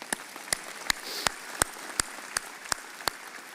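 A commencement audience applauds staff members: one crisp, evenly spaced clap repeats near the microphone about three times a second over a soft, distant wash of crowd clapping.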